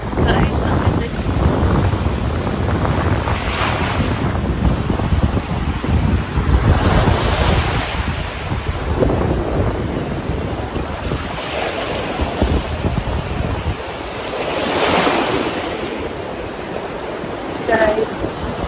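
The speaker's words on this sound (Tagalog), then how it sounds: "maalon. Hirap mag-swim." Rough sea waves break and wash ashore at Dubai Sunset Beach, a loud, continuous roar of surf with heavy wind buffeting the microphone, and swells rising and falling throughout.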